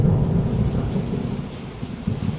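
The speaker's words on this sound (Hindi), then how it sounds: "बहुत बारिश हो रही है, जोरों से स्टार्ट हो गया है बारिश होना यहाँ पे।" Heavy rain hisses steadily while low thunder rumbles through at NSTI Dehradun, India, loud and close, with no voices.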